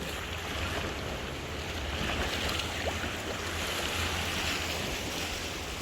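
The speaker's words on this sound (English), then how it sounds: "You can hear the sound of the sea" Sea waves wash against the shore of a small island off Malta, a steady broadband rush with a low rumble and gusts of wind noise, continuous and fairly loud with no voices.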